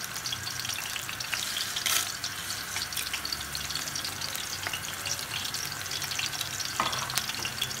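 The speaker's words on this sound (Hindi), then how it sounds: "और प्याज को फ्राई करेंगे।" Onions sizzle and fry in hot ghee with whole garam masala, a steady close crackle running throughout with occasional louder spits and stirring clatter, no voices.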